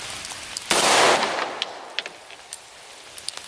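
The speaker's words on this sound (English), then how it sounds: "Not used to shooting a pistol off a rest." One loud 9mm pistol shot from a handload, fired off a rest at an outdoor range, cracks sharply and decays over about half a second. Faint small clicks and taps follow.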